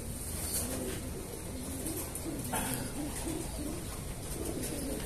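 Pigeon (domestic racing hen) cooing softly in a loft, a low repeated coo pulsing through steady background hiss and faint ambient noise.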